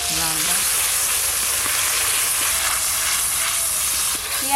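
Onion paste frying in hot mustard oil with whole garam masala, a steady loud sizzle and hiss running unbroken throughout, with no talk.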